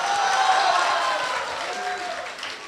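Theatre audience at a Beijing crosstalk performance applauding, a continuous wash of clapping that holds steady and fades slightly toward the end, with a performer's voice faintly over it.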